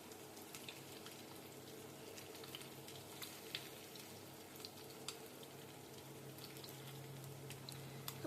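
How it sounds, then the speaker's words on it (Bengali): Fish manchurian pieces shallow frying in a pan of oil give a faint, steady sizzle with occasional sharp crackles and spits, quiet and without talk. "আমি এইভাবে ভাজছি কারণ আমি পোড়া তেলটা রাখবো না"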